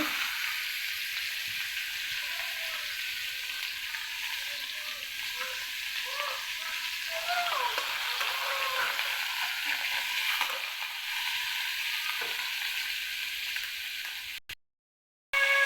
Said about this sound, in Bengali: এখন আমি টাকি মাছগুলি সামান্য পরিমাণ ভেজে নেব।